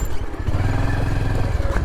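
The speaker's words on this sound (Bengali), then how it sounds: "চাকা খালি ঘুরিচ্ছে ভাই, দুই দিকে প্যাঁচ খাচ্ছে।" A motorcycle engine revs with a low, throbbing drone while its rear wheel spins and slips in thick mud on a rural track near Nurul Bil in Bogura. The sound is close, loud and continuous.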